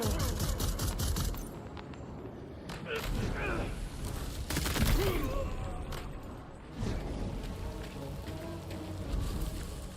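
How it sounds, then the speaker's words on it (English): Rapid bursts of gunfire in a video game crackle in clustered volleys amid a rain-like hiss of ambient noise, with sharp cracks repeating across the stretch. "Enemy can hear gunshots."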